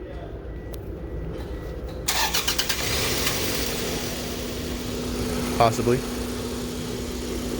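A car in an automotive lab cranks briefly with a rapid rhythmic churn, catches and settles into a steady low idle, with a short second stutter later and a person speaking briefly over the engine.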